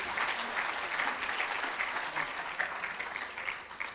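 Conference attendees at a 10th anniversary research event applaud together, a sustained, moderately soft patter of many hands clapping evenly throughout.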